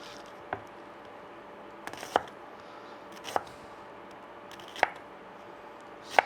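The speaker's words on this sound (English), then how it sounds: "there's lots of onion, because like I said, I like lots of onion in my chow mein" A knife chops onion on a cutting board for chow mein, five sharp, close taps spaced about a second apart over a faint steady hum.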